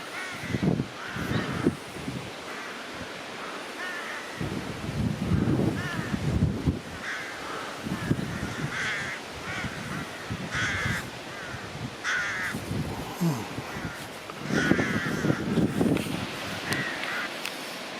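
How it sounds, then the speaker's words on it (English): Crows caw again and again across open countryside, mostly one or a few harsh calls at a time, fairly close but not loud. Other bird calls and a faint breezy hiss fill the quiet gaps. "Look at these birds flying"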